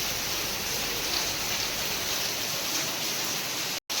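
Steady, dense rain hisses without a break, broad and even, then cuts out abruptly for a split second near the end.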